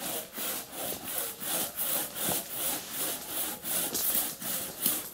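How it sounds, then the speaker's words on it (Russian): Steady back-and-forth strokes of a hand saw cutting through elder wood, about ten even rasping passes in a regular rhythm, close and alone with no talking. "пили дальше"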